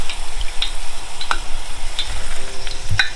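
General Tso chicken pieces deep-frying in oil held around 300 to 310 degrees for a first fry give a steady, close sizzle scattered with crisp crackles and pops, with no talking.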